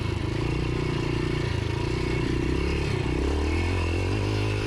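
A Yamaha XT 500 motorcycle rides off-road in first and second gear over a bumpy, steep, rooty farm trail, its engine loud and close with a steady thumping drone, shifting in pitch partway through, and rattling over the terrain.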